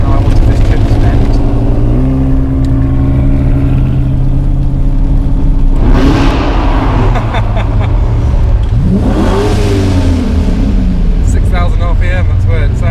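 A TVR sports car engine drones loudly at close range on a road trip toward Monaco, rising in pitch as it revs and then falling back, with brief surges and a steady rumble underneath; someone speaks over it.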